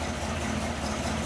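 An engine idles at an unchanged speed, a steady low rumble with an even, continuous texture and no voices.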